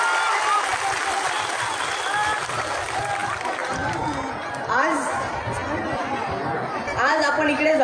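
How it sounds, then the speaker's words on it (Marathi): An audience at an outdoor political rally of the Vanchit Bahujan Aghadi in Aurangabad claps in a steady, dense wash, mixed with crowd chatter and voices talking over it for the whole stretch. "मोठ्या टाळ्यांच्या गडगडाटांनी एकदा स्वागत करूयात"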